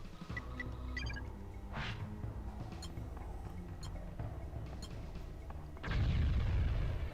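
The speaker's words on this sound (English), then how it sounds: "Damn, that's a big explosion." A big explosion blows open a wall in a video game, erupting as a loud, heavy roaring burst near the end after a stretch of layered game music and effects.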